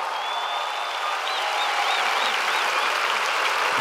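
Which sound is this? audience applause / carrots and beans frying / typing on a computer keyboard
audience applause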